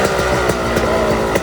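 A small motorcycle engine, a Sur-Ron Ultra Bee, runs close by with a steady buzzing drone and slight pulses in its note, loud and brief, with no talking.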